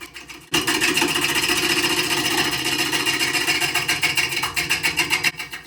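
A gouge roughing the outside of an out-of-round wooden bowl on a lathe, a steady loud scraping and whirring with a rapid rhythmic chatter from the interrupted cut, starting abruptly and running without talk.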